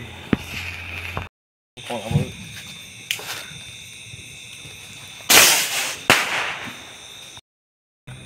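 Diwali firecrackers burst in sharp pops and crackling bangs, one loud crackling burst standing out, separated by short stretches of silence, with a voice heard between them.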